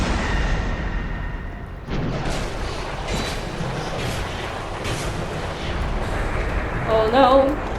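Explosion rumbles through the Dark Souls 2 game, a broad booming blast around two seconds in with roaring, crackling debris trailing on, then a further burst near the end under faint voice.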